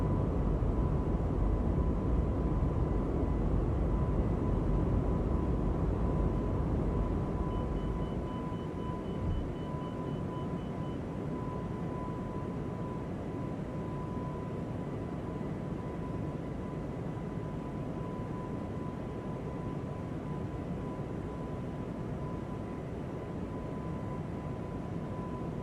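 Airbus A220 jet engines in a flight simulator roar steadily as the airliner climbs after takeoff, a loud broadband rumble that eases slightly partway through, with a constant cockpit tone running underneath.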